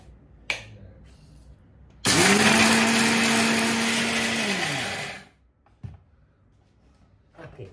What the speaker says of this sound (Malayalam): ഇതൊന്ന് മിക്സിയിൽ ഒന്ന് കറക്കണം